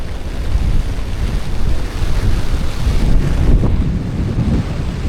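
Strong wind gusts buffet the microphone at a wild camp in Analong Valley, loud, rushing gusts that swell and ease, with a low roar and no voices.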